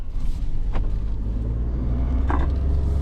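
A 2025 Ford Expedition Active with its 3.5 liter EcoBoost V6, driven in everyday mode, heard as a steady low engine and road rumble from inside the cabin, with a couple of faint brief thumps.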